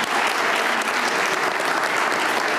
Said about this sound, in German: Der Applaus war für dich.